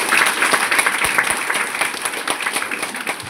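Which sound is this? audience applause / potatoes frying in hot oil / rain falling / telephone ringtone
audience applause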